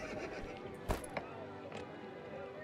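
A horse mount is summoned in the MMORPG The Quinfall, giving a brief faint whinny with a couple of sharp clicks over steady game background sound.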